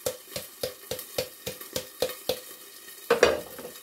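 A cheesy gluten-free flourless pizza cooks in a pan while a utensil scrapes and taps the pan in a regular rhythm, about ten crisp strokes over a soft sizzle, followed by a louder clatter.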